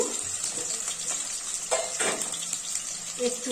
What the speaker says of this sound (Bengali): আলুগুলো একটু নেড়ে দেবো